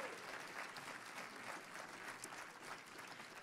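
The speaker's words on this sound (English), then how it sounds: "Give them another round of applause." Church audience applauding student groups, a dense, steady wash of clapping that runs evenly throughout, heard from a distance at low level.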